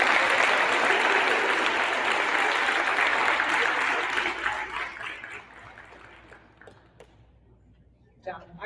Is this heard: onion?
no